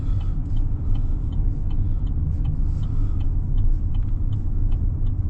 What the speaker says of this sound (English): Oh, the silver combine.